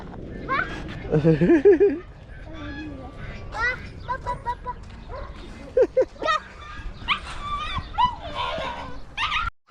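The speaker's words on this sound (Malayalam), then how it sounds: "ഞങ്ങൾ വന്നപ്പോൾ ഇവിടെ ഹസ്കികൾ കടി വിടുന്നുണ്ട് കേട്ടോ അതാ ഹസ്കികൾ കടി കൂടുന്നത്" Several husky dogs snarl, yelp and bark in a scuffle, sharp bursts and whimpers coming in irregular flurries, with voices talking over the commotion.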